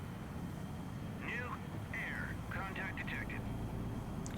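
A helicopter in the naval combat game Sea Power gives a steady, low engine and rotor rumble throughout, with chirpy radio-like bursts and a voice talking over it.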